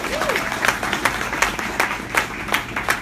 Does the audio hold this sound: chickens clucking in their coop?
no